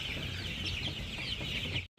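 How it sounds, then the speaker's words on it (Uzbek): Young chicks about 34 days old, beaks trimmed, cluck and cheep continuously in a pen, a dense close chorus of chirping that stops suddenly at the end. "Mana bu jo'jalarimiz bor."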